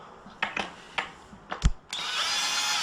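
A power drill unscrewing screws during easel assembly, heard as a few short clicks and knocks followed by a sustained close whirring of the drill motor.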